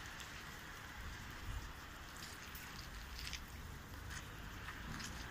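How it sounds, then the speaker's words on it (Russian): Rain falls steadily on an empty street, a close, even hiss with scattered sharper drips and splashes, and no voices. "такая у нас улица сегодня. Дождливая, народу никого."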